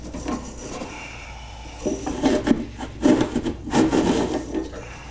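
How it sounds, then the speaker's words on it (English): A condenser coil brush scrubs between refrigerator coils with close, dry, rasping strokes that come in uneven bursts, growing more vigorous partway through. "now we're going to use the condenser coil brush and get in between the nooks and crannies"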